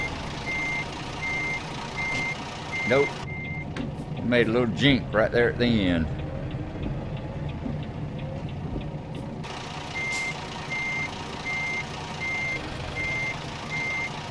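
Reversing alarm on a truck in American Truck Simulator: a steady, evenly spaced electronic beep repeats over a low idling engine, stops while someone talks, then resumes near the end.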